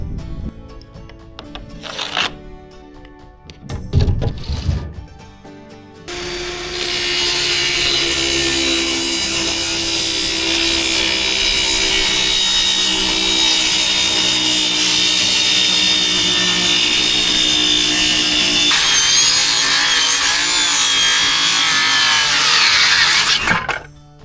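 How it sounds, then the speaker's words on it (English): A DeWalt battery-operated circular saw cuts through a 2x4, a steady loud whining rip lasting nearly twenty seconds after a few brief handling knocks at the start. "this DeWalt circular saw, battery operated, is money for small projects like this"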